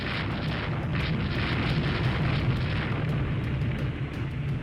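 Enemy warship guns firing in the naval strategy game Rule the Waves 3, a steady rumbling roar of distant artillery and booming bursts lasting throughout, with no talking.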